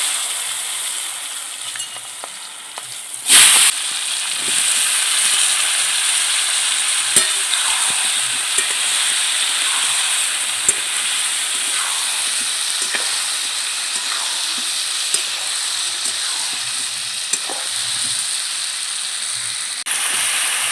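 Cut raw mango pieces with turmeric hit hot oil in a pan with a sudden burst, settling into a loud, steady sizzle with occasional stirring clinks, close and without speech.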